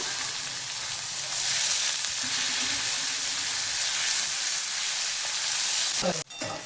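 Cluster beans with turmeric and asafoetida fry in hot oil, giving a loud, steady sizzle that stays close and continuous for several seconds before cutting off abruptly near the end.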